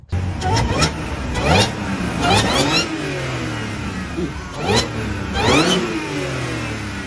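A 2015 Audi S5 with an AW intake revving hard, engine note climbing and falling in repeated bursts with a rising supercharger whine, loud and close.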